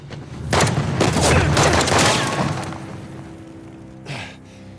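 A burst of loud video game gunfire in Uncharted: The Lost Legacy rattles off in rapid shots for about two seconds, followed by a fading rumble and one more distant shot.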